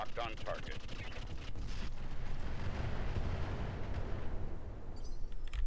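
Incendiary weapons fire in the mech game Roguetech as a dense, continuous roar of burning blasts and rumbling low impacts, steady and loud throughout, with a brief voice at the start.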